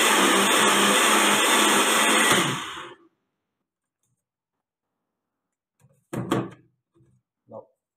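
A blender whirs loud and steady for about three seconds while making an apple-core, protein and dill smoothie, then cuts off; a few short knocks and clatters follow after a silence.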